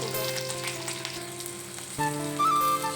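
Four or five whole green chillies sizzle and spit in hot oil, a brisk close crackle that flares louder near the end as more goes into the pan.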